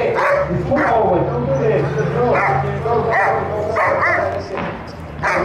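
Dog barking and yipping during a dog training session, repeated barks close by over continuous talk from trainers.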